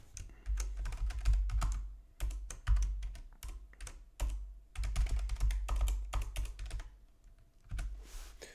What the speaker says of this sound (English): I'm typing something because I want to ask you guys something